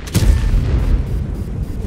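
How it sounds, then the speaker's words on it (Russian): Artillery blasts in a tank combat video game featuring the Swedish Spz 57 Rh 115: a sharp loud boom at the start, followed by a rumbling low roar that rolls on and slowly fades. "Артиллерия."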